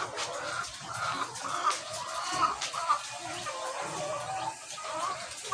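Laying hens at a chicken layer farm, a flock clucking and murmuring in repeated soft bursts at moderate distance, with faint background voices and farm ambience.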